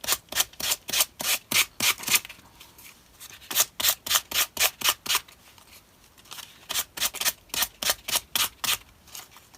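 Rhythmic rasping strokes of a sanding block worked over altered craft buttons, coming in quick bursts of eight to ten strokes separated by short pauses, close and fairly loud with no talking.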